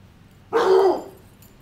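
A single loud Rottweiler bark rings out close by in snow, sharp at the start and trailing off, with quiet surroundings before and after.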